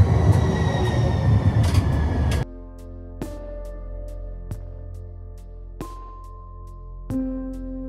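Salt Lake City metro light rail train, loud and close at first as it rolls through, then cutting off abruptly to a quieter platform ambience with occasional sharp clicks and knocks.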